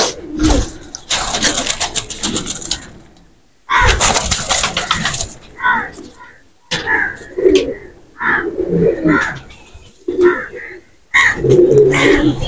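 Young pigeon chicks coo and rustle close up, with repeated soft cooing calls and wing or body movement in bursts, while someone talks intermittently over them.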